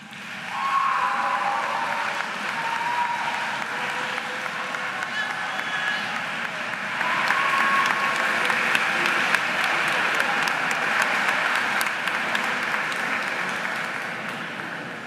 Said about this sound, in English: please show your appreciation for those who have been of greatest support to you with a round of applause